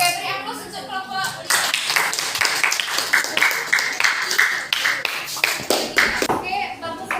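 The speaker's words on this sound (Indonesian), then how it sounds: "beri aplaus untuk kelompok" A classroom audience applauds a presenting group: a burst of dense, lively hand clapping from many people runs for several seconds, with voices talking just before and as it fades.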